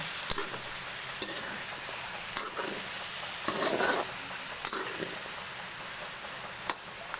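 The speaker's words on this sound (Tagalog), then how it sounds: "Medyo haluin po muna natin sa bawang para kumapit yung amoy ng bawang sa kanila." Chicken feet with garlic stirred in a pan for adobo: faint, steady background sizzle broken by periodic soft scrapes and clicks, with a slightly louder burst of stirring midway.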